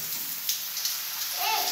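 A home shower runs while children are bathed, a steady hiss of falling water that stays fairly close and even throughout.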